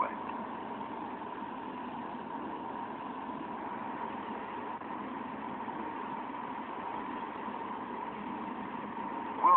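An airliner's engines whine at a steady idle while taxiing in Microsoft Flight Simulator X, a constant muffled drone with a faint tone running evenly throughout.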